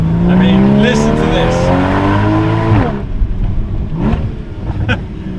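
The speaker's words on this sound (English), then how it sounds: "in Sport Plus, and more crackles coming out of the back of the exhaust" Porsche Cayman 981 GTS in Sport Plus mode revs with a loud climbing engine note, then the exhaust pops and crackles in sharp bursts as the revs drop, heard close up.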